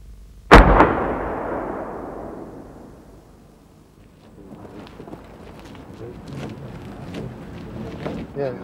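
A Bofors gun fires one loud shot at an 80 mm thick armor plate on a 75-meter firing range, with a sharp blast followed by a long rumbling decay, then ambient noise and faint talk.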